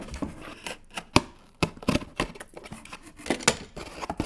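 Scissors snip through cardboard while cutting out a circle for a kids' Pokémon box craft, giving a close, irregular series of crisp cuts and rustles with brief pauses between strokes.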